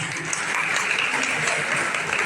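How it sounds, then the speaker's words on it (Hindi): Steady applause from a crowd at a sannyas initiation ceremony in Wambori fills the whole stretch, dense and even without pauses, heard at moderate distance. "हम सभी उनको उनके लिए तालियां बजाकर स्वागत करें"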